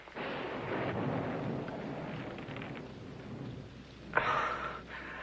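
Thunder rumbles through a storm in a Western drama, with a long broad roar that swells again near the end before easing off. The rumble is steady and fairly loud, with rain-like hiss running beneath it and no voices.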